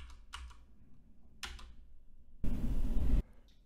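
Computer keyboard arrow keys clack in a few separate, close presses, followed by a short burst of broadband noise.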